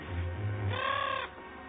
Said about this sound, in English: Stow that squawking.